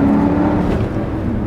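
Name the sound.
Porsche Cayenne Turbo launching, turbo spooling up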